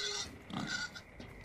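A pig in Far Cry 5 snorts and oinks in a couple of short, close grunts over a soft background hum.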